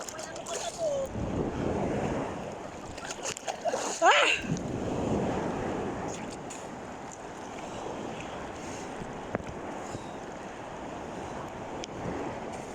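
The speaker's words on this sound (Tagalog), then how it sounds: "Ang laki ng alon!" Strong sea waves surge and crash against a shore amid gusting wind noise, with the rushing surf loud and close and a few excited shouts breaking through.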